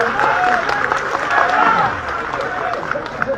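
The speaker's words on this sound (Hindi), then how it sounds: "ताली बजाकर धन्यवाद" Applause from a large gathering at a live religious darbar in Banda, a broad steady wash of clapping that holds throughout with crowd murmur mixed in.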